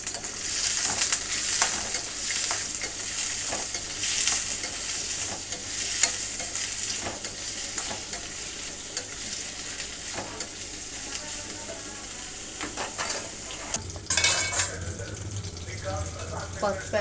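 Sliced onion and green chillies stir-fry in oil for chicken gravy, with a constant close sizzle and repeated scraping stirs, plus a brief burst of running water near the end.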